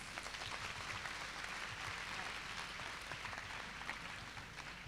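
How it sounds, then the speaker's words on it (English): A university orientation audience of new undergraduate students applauds, a dense, continuous wash of many hands clapping at steady loudness for several seconds. "Please give them a big, big pelican round of applause."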